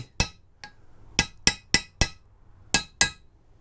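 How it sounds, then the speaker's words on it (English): A seal being tapped into a socket on a Lexus IS250: about eight sharp, hard metallic hammer taps, close and distinct, in an irregular rhythm separated by quiet gaps. "apply a little bit of direct tapping"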